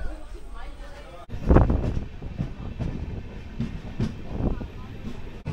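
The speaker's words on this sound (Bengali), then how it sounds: "2 মিনিটের হল্ট, ট্রেন ছেড়ে দিয়েছে।" A night express train rumbles and rattles as it pulls away from a station, with wind buffeting the microphone and someone speaking over the noise.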